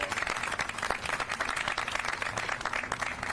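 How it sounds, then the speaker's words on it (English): An audience at a school district brick removal event breaks into sustained applause, a fairly close, busy patter of many hands clapping at a steady level. "Let's give him another round of applause."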